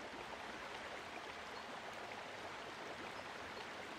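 Steady broadband rush of river water in Legend of Zelda: Twilight Princess, a continuous stream flowing evenly throughout with no voices.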